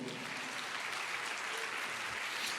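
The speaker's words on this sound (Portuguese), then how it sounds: "aplauda ao Senhor" Church congregation applauding together at a family conference, a steady wash of clapping from many hands, fairly faint and continuous with no voices over it.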